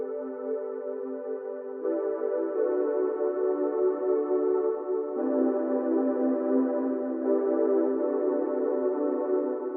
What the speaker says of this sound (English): So the sound is just a very subtle pad sound